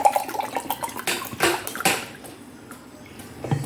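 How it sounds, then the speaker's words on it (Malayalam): Cold water, two glasses of it, pours into a vessel for a lemon juice drink, a close splashing burst at the start that fades into a quieter trickle, ending with a faint clink. "അതിനുവേണ്ടി നമ്മൾ 2 ഗ്ലാസ് വെള്ളമാണ്, തണുത്ത വെള്ളമാണ് ഒഴിച്ചു കൊടുത്തിരിക്കുന്നത്."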